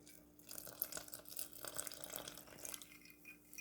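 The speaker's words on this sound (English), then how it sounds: "We got ice water here, okay? You're gonna add about half of it." Ice water trickles and splashes faintly into cobbler dough in a cast iron skillet for an apple and peach cobbler, a soft continuous pour with small drips, quiet and close with no talking.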